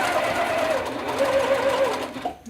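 Sewing machine running steadily as it stitches the final seam of a fabric bag along a fold, a continuous close whirring hum with a brief slowdown and stop near the end.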